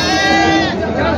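A goat at a crowded livestock market gives one loud, wavering bleat, close by, over a background of crowd chatter.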